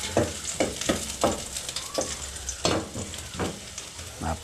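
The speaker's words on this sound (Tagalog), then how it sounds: "igisa ko muna tong ating luya para may sabaw" Ginger sautéing in a pan, with a steady loud sizzle and repeated rhythmic scrapes and stirs of a utensil against the pan, heard close up with no talking.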